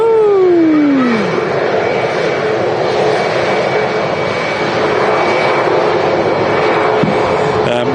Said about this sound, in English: A380 now on the push